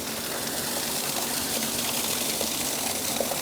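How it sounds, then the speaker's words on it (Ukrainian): Loud, steady rush of water flowing in a fountain, a continuous splashing wash with no pauses, close by and unbroken throughout. "Зараз тут вода тече."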